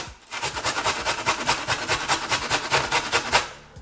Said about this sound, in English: You're going to be using this side of the grater and grate your ginger